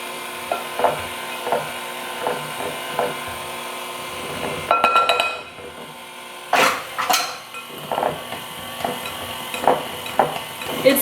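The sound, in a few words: mixer stirring shredded carrots into peanut butter mixture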